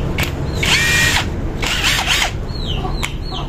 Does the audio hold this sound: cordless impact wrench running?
yes